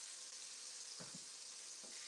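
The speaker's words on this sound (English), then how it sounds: "it's all happening now with those scallops. Can you hear that sizzle?" Scallops sizzle steadily in a hot pan, a soft, continuous hiss with a couple of faint low thumps as the pan or food shifts; no voices.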